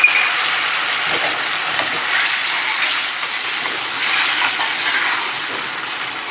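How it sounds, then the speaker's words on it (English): Pasta water hits a hot pan of shrimp with garlic, ginger and red onion, setting off a steady, close sizzle and bubbling hiss that swells twice and carries on without any talk. "Now we're going to add a little of the pasta water."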